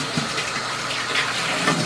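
Warm water gushing steadily into a tank as it is rinsed during cleaning, a continuous close splashing fill with no pauses.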